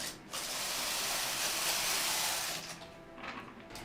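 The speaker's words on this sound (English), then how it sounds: "One pass of the main carriage to reset the needles." A knitting machine's main carriage makes one pass to reset the needles, producing a steady close hissing, rattling slide for about two seconds before it tapers off into lighter clicks.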